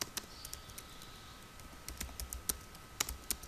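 Fingers type on a computer keyboard in Microsoft Word, and the keys tap quietly and close in uneven bursts with short pauses between them.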